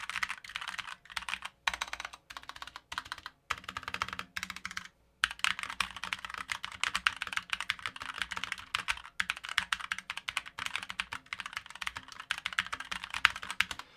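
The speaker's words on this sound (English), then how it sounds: "so the sound test for the GMMK Pro, I'm gonna do the white ice and the compact over here" Typing on a GMMK Pro white ice TKL keyboard with Kailh Silver switches, a fast, steady run of close, soft keystrokes with a short pause about five seconds in, no voices.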